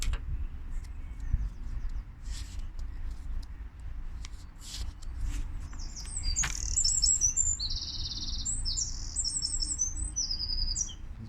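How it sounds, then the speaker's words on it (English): Birds chirp and trill steadily in the background over a low rumble of outdoor noise, with bright, quick calls growing busier toward the end. "These birds are chirping like crazy."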